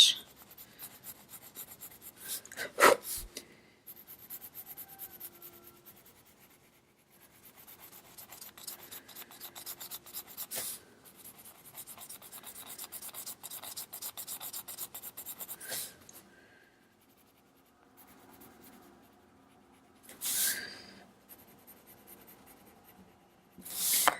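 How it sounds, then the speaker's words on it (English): Colored pencil shading and blending on paper, heard close and faint: long stretches of soft, dry scratching strokes broken by brief louder rubbing bursts and pauses, with no talk. "And then I'm blending from the other side with my cream color pencil."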